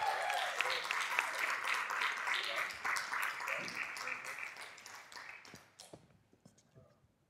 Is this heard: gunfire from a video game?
no